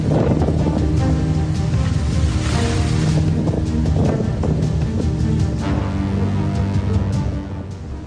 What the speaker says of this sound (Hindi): तेज हवाओं और समंदर में उफान मारती लहरों की वजह से नावें खूंटा तोड़कर भी समंदर में जा पहुंची।